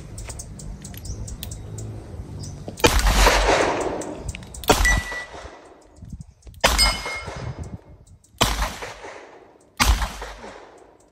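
A Smith & Wesson .357 revolver fires five loud, close shots spaced a couple of seconds apart at a range. Each blast rings and decays into the quiet before the next.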